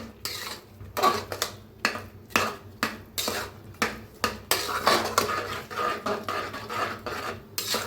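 A spoon scrapes and stirs thick cooked dal in a pot, with repeated rhythmic rasping strokes about twice a second, close and fairly loud with no voices.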